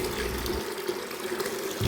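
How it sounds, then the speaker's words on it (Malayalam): Water pours steadily into a bucket, a continuous gushing splash that runs the whole moment, close and fairly loud, with no voices. "അത്രയും തന്നെ നോർമൽ പച്ചവെള്ളവും കൂടി ആ ബക്കറ്റിലേക്ക് ഒഴിക്കണം"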